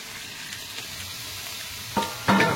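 Braised meat sizzles steadily in a pan during a nighttime boat picnic in the Sundarbans, then two louder bursts of hissing break out as water is poured in.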